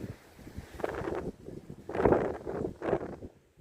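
Wind blowing across an open Cornish moor, gusting in broad uneven surges that buffet the microphone, loudest in the middle, with no voices.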